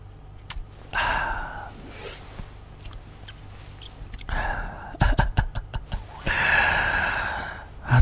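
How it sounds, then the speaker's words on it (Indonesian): ASMR breathing close to the microphone, with a series of soft, airy inhales and exhales, a few sharper gasps and snort-like breaths, intimate and fairly loud, no words spoken. "Atau mungkin kamu pengen ngerasain nafas aku"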